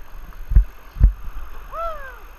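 Kayak paddle strokes in water, two soft low splashes about half a second apart, followed by a brief high whistling sound, with faint wind in the background.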